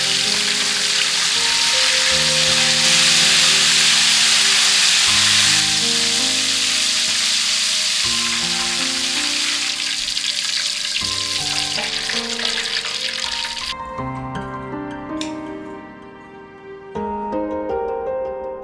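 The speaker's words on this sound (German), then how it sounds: "Hähnchenflügel bei großer Hitze nochmal 1 Minute frittieren." Chicken wings deep-fry in 200-degree oil over high heat with a loud, steady sizzle and crackle that holds for most of the time before easing off near the end.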